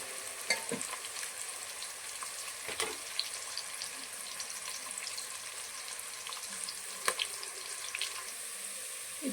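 Onions frying in a pan for vegetable pulao make a steady, moderately faint sizzle, broken by a few sharp clicks of stirring, with no voices.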